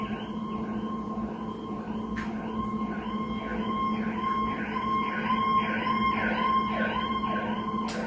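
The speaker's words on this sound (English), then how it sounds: "there have been a lot of sirens lately" An emergency vehicle siren wails in a residential neighborhood, repeating rising and falling sweeps that grow slightly louder over several seconds, heard at a moderate distance over a steady background hum.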